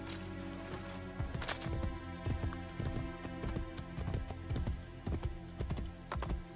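Hooves clip-clop at a steady gallop on a horse in the video game Assassin's Creed Brotherhood, a quick rhythmic pounding that holds close and moderately loud over a low continuous in-game ambience.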